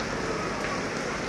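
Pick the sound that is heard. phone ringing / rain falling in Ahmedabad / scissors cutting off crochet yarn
rain falling in Ahmedabad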